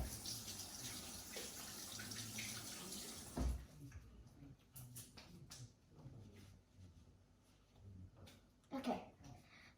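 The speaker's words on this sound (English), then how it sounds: "I'm gonna go rinse my hands real quick" Tap water runs into a sink while hands are rinsed, a soft, steady splashing that is faint and fairly distant, then it cuts off and a few small knocks follow.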